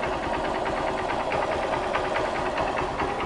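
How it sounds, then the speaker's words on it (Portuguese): A Honda CG 125 Fan motorcycle engine with an electrical fault idles close by with an uneven, lumpy rhythm, its beat stumbling and wavering rather than running smoothly. "Escuta o motor."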